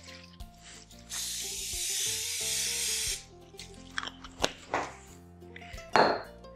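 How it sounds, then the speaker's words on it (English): Cooking spray hissing into a crock pot slow cooker in one steady two-second burst, followed by clinks and knocks of the can and pot, close and without talk. "spray the inside of our crock pot or slow cooker with a cooking spray"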